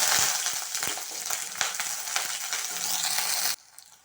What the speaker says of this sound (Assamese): তেল গৰম হৈ গ'ল। এতিয়া ইয়াত দিম পিঁয়াজখিনি।